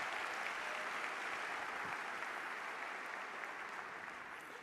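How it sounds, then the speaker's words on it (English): Audience applause at the 2024 43North finals event, a broad steady wash of many people clapping in a large room, sustained and even, easing off slightly near the end. "let's give them a round of applause"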